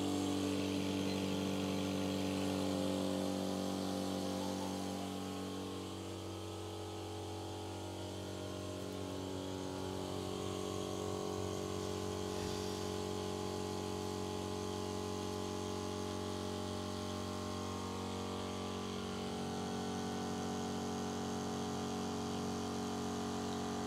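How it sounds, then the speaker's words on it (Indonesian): An RJC 1 HP air compressor with a 10-liter tank runs continuously while filling, a steady loud motor-and-pump drone with strong tonal hum that holds for over twenty seconds with little variation and no talking. "kita akan lihat berapa desibel atau tingkat kebisingan dari si kompresor ini"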